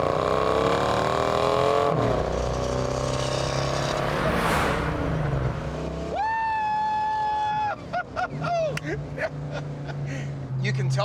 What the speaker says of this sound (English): Definitely American by the rumble.